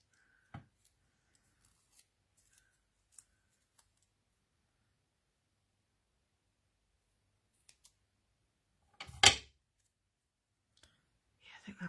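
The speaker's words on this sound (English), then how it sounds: "I'm just going to trim off some of that excess and try and get it straight." Scissors trim excess card from a handmade greeting card, heard as a few faint, scattered clicks and then one louder, brief snipping burst near the end, with soft handling noises after it and no talk.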